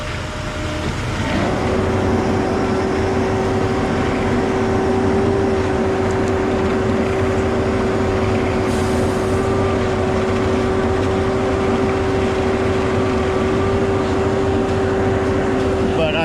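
A manual concrete pump's engine runs steadily at a strong, constant drone with a sustained tonal hum throughout, loud and close, with no talk over it.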